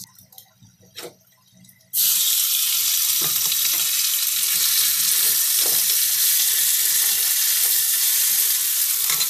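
Corned beef dropped into a hot pan after a few quiet clinks, bursting into a loud, dense, steady sizzle that holds for the rest of the stretch, close by, with no one talking.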